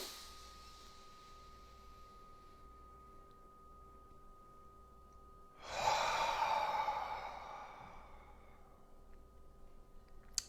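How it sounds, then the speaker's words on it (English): A person draws one slow, deep breath, heard as a single soft, airy rush that swells near the middle and fades gradually into quiet, with near silence before it. "Take a nice breath"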